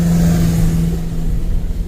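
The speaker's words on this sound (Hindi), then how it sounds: "अच्छा, ट्रैक्टर है" A tractor loaded with stones passes close on a narrow road at night, its heavy engine a loud, steady low drone with a strong hum that eases slightly toward the end.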